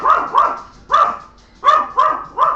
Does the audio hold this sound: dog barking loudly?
yes